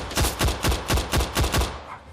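Seven evenly spaced gunshots in Better Than Dead VR come in a quick steady rhythm, each one sharp and loud, with a short fading tail after the last.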